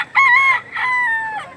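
At the Lipa auction market, a rooster lets out one loud, close crow in two drawn-out parts, with no other sound around it.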